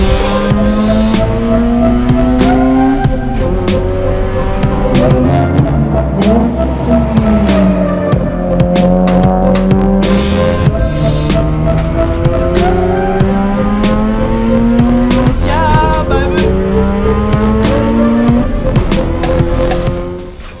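A Mazda RX8 race car lapping a technical, slow circuit: a loud rotary engine rises and falls steadily through gear changes and corners, with brief tire squeals, continuous for the whole stretch.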